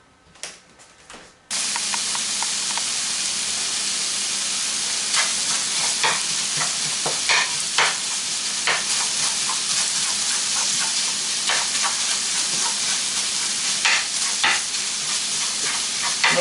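Sausage for biscuits and gravy fries in a pan with a steady, loud sizzle, broken by repeated scraping and clacking as it is stirred and broken up; a few quiet clicks come first before the frying starts.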